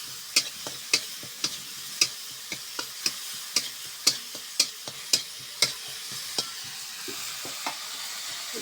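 Spiced cauliflower being stir-fried in a pan with a splash of water added to the masala, after tomato, chilli paste and green chilli went in, on a wood-fired stove: a steady low sizzle punctuated by a regular series of sharp spoon scrapes and taps.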